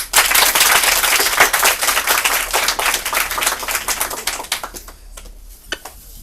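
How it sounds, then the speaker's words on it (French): A live audience claps for the winner of a game show round, a dense burst of close applause that thins into scattered individual claps toward the end, no talking. "On applaudit s'il vous plaît."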